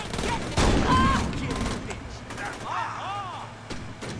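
Gunfire in the Saints Row video game: a loud burst of shots early on, then scattered further firing under game noise, with people talking over it.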